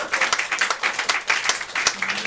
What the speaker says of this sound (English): Let's give Robin a round of applause.